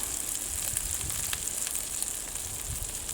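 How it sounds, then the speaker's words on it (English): Sesame oil sizzles hard in a hot pan of duck fried rice, a steady close crackling hiss with scattered pops and spits throughout, no talking over it. "we're going to hit all of this with some sesame oil"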